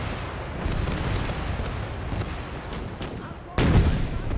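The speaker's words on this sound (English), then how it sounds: "Let's hit him with artillery." Artillery fire in Gates of Hell during a Battle of Kursk trench defense, a rumbling din of distant booms capped by one heavy close blast near the end, with mortar fire and voices faintly underneath.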